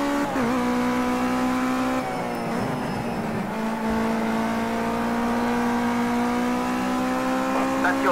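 A G40 Ginetta GT5 race car at Indianapolis Motor Speedway, its engine holding a loud, steady, close droning note with a brief dip and recovery in pitch mid-run, under some faint talk.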